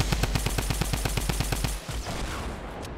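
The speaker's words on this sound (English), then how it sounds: "I'm gonna shoot a rocket." Rapid automatic weapon fire in Fortnite Battle Royale: a fast, even string of about a dozen loud, close shots. It cuts off abruptly and leaves a quieter rumbling tail.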